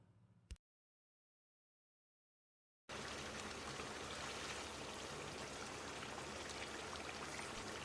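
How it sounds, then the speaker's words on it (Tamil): Remaining masala paste pours into a pan of chicken frying in ghee, giving a steady, loud wet rushing and gushing sound after a brief gap of silence, with no talking. "அதுக்கப்புறமா மீதி இருக்கிற பேஸ்ட்டை ஊற்றிக்கலாம்"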